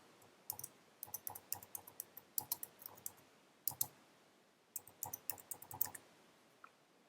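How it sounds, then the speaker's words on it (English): Rapid clicks and keystrokes from a computer mouse and keyboard while text is edited in a web page builder, arriving in short irregular bursts and quick double clicks, close and fairly quiet, with no talking. "and start typing away"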